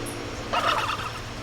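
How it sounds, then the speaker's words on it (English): Turkeys gobble in the video game Wytchwood, a short loud burst of gobbling over quiet game ambience, with no talk. "Away from the death turkeys."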